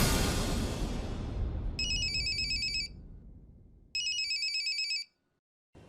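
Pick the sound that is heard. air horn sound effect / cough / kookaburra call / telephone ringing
telephone ringing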